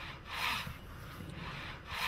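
Two-man saw cutting timber over a saw pit at an open-air museum, rhythmic rasping strokes of wood sawing, about three long push-pull passes, close and clear with no talking.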